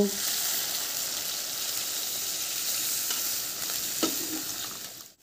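Spice paste frying with a little water for a fish curry, a steady hissing sizzle under occasional stirring scrapes that fades out at the end.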